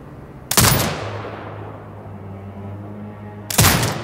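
In the video game Sniper Ghost Warrior Contracts 2, a commanded turret fires two loud, sharp blasts about three seconds apart, each followed by a decaying echo over a low background hum.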